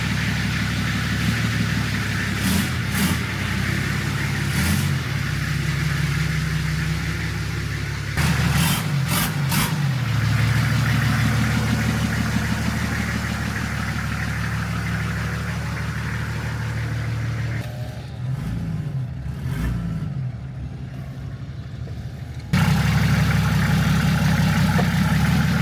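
A Nissan GQ 4x4 with no exhaust fitted runs close by at a loud, rough, continuous drone, its low rumble holding steady with a few brief changes in tone.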